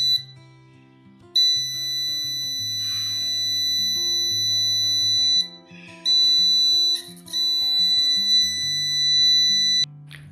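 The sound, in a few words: passive buzzer sounding on Arduino sensor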